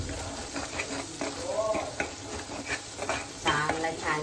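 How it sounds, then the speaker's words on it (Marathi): Masala for matar paneer frying in oil in a covered pan over low heat, a steady close sizzle with bubbling and occasional spoon scrapes throughout, moderately loud. "छानपैकी मसाला भाजलाय."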